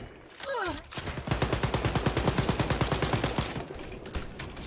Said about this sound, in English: Keep shooting him in the head.